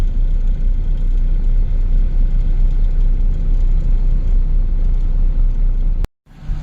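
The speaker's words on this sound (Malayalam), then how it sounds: "നമ്മുടെ വണ്ടിക്കകത്തോട് ഇപ്പോൾ താർ മിക്സ് ലോഡായിക്കൊണ്ടിരിക്കുകയാണ്" A truck engine idles at a low, steady rumble while hot tar mix is loaded into it at a hilltop plant, continuous and close, with a brief cutout near the end.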